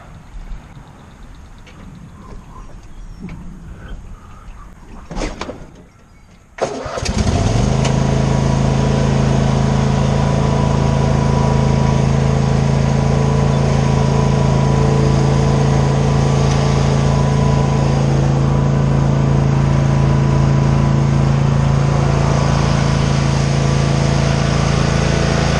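A lawn mower engine starts with a brief crank after some quiet outdoor shuffling, then roars into a loud, steady run that continues close by without a break.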